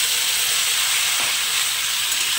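Onions and spices sizzle in a hot pan, a steady close hiss of frying with no break, with no voices over it.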